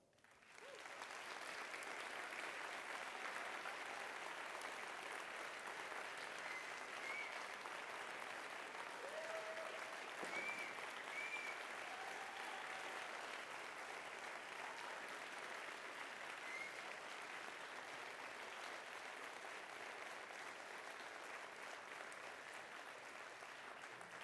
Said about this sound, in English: let's give him and all the others who risked their lives a big round of applause